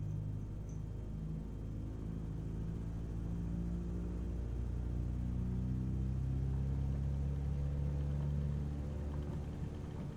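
Light aircraft engine throttling up on a dirt strip in Microsoft Flight Simulator, a steady droning hum with harmonic tones that rise slowly in pitch and grow a little louder over several seconds, heard alone.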